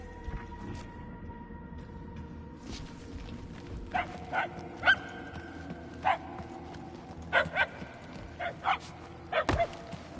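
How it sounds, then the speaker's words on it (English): Dogs barking in the Guardians of the Galaxy video game, a series of short, sharp barks at a distance that come more often and grow somewhat louder toward the end, over a quiet ambient background. "The barks are getting louder, at least."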